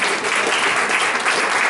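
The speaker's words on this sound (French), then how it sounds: "On peut les applaudir encore plus fort que ça." An audience at a spiritual gathering bursts into loud, dense applause that holds steady and close for the whole stretch.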